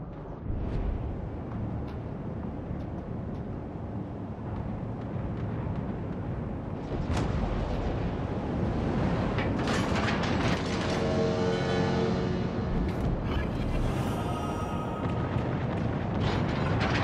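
Heavy naval gunfire booms from warships in the console game World of Warships: Legends, a continuous loud rumble of cannon blasts and explosions that swells and intensifies midway, with no voices.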